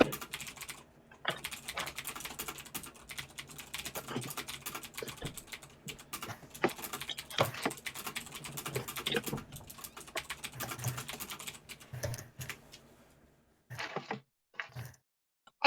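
Rapid clattery typing on a loud computer keyboard, close and crisp, with bursts of keystrokes, brief pauses and a stop-start patter near the end.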